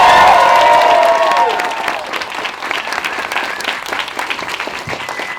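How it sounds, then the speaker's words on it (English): A crowd gives loud applause mixed with cheering at a Dallas class gathering. The clapping is dense and close, strongest at first, then eases slightly and carries on steadily. "Y'all give her a round of applause."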